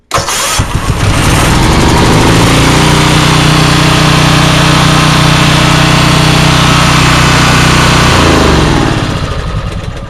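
A 4 kW generator cold starts: a short cranking burst catches into a loud, steady engine roar up close. The engine runs evenly for several seconds, then its tone drops and eases near the end.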